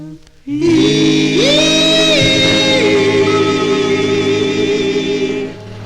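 1957 doo-wop vocal group 45 playing on vinyl, sustained harmonized group voices and a lead singer gliding between held notes over a soft backing, loud and clear before fading at the end.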